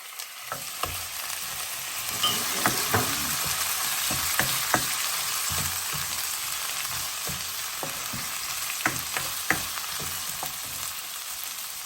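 Tomatoes frying in a pan alongside fine beans in a sautéed dish, with a continuous close sizzle and frequent stirring clatters of a utensil against the pan.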